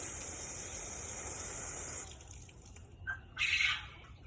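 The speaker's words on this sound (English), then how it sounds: "And rinse it off real good, get all the blood out of it." Tap water runs loudly over butchered quail being rinsed, then cuts off, followed by quieter drips and a short second gush of water.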